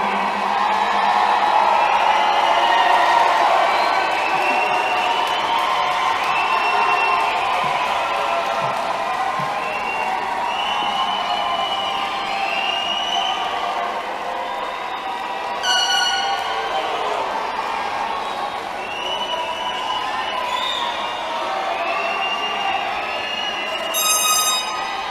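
A large graduation crowd in a school auditorium cheers and whoops loudly and continuously, with a few brief buzzer-like tones cutting through near the end.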